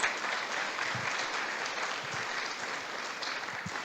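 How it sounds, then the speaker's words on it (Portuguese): A church congregation claps together in a steady, full round of applause at moderate volume, an even rush of many hands with a few louder claps standing out near the front. "Dê um aplauso a esse Deus que é poderoso"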